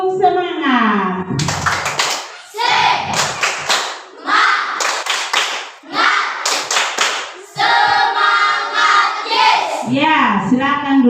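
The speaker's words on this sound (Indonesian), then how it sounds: "Coba tepuk semangat." A class of children performs a rhythmic cheer clap in a classroom, sharp patterned claps interleaved with their loud chanted voices, close and energetic throughout.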